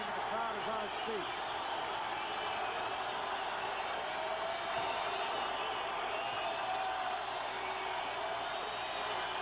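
A basketball arena crowd at a 1990 UNLV vs New Mexico State college game roars steadily on its feet, a sustained wash of cheering with a few ball bounces, while a commentator talks over it.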